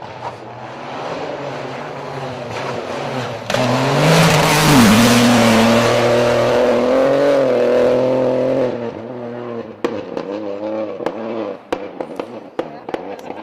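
A Peugeot 208 rally car roars past at speed on a rally stage, engine rising and falling loudly as it approaches and recedes, followed by sharp cracks and pops.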